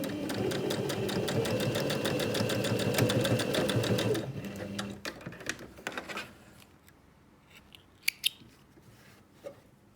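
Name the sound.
sewing machine stitching a zipped make-up pouch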